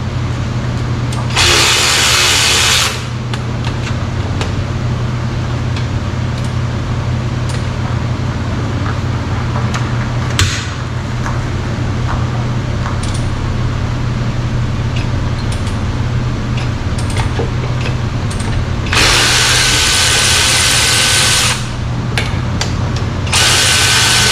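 A power tool breaks loose the 15mm caliper bracket fasteners on a 2006 Volvo S80 all-wheel drive, sounding as two loud close whirring bursts over a constant workshop drone.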